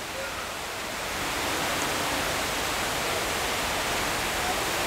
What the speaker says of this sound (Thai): ส่วนด้านหน้านี้นะครับก็เป็นตัวน้ำตกนะครับของน้ำตกสายโยกน้อยแล้วก็เป็นน้ำตกใหญ่เลยนะ